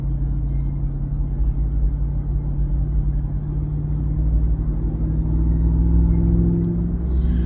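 A Ram TRX truck with a custom aftermarket exhaust idles or cruises with a steady deep rumble, heard continuously and fairly loud from inside the cab with no drone.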